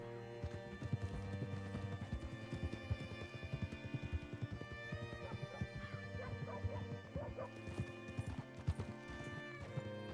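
Horse hooves clip-clop at a steady walking rhythm, close by, over continuous background music, with a brief whinny-like sound partway through, in a video game set around the towns of Rhodes and Blackwater.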